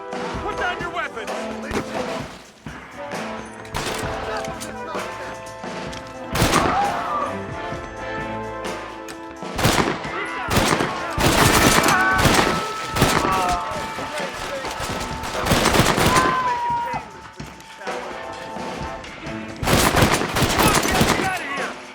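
Gunfire in the Western video game Red Dead Redemption: repeated loud bursts of shots and crashing impacts over a musical score, with dense volleys, while voices shout during the firefight.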